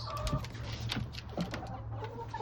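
Chickens on a backyard flock, a rooster with his hens, cluck steadily and overlap at close range, with repeated short calls rising over a continuous low murmur from several birds.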